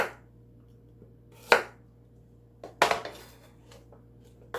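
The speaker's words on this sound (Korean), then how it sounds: "이제 당, 당근 먼저 썰게요. 당근 약간 길게 해가지고 채 썰 거예요." A knife cuts carrots into long thin strips for kimchi, giving a few sparse sharp chops against a board with short pauses between them, close and fairly quiet, with faint background hum.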